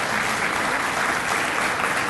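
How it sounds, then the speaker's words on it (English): Steady applause fills a hall at a college student recognition ceremony, a dense, even patter of many hands clapping continuously and fairly loud. "Keith, start the applause for me."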